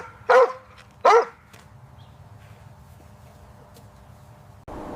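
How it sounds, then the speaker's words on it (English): A dog gives two sharp, loud barks about a second apart, then quiet follows with faint background hum. "It's a dog."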